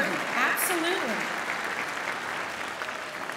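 An audience claps at an elementary school choral showcase, a continuous, fairly loud wash of applause with a few faint voices mixed in.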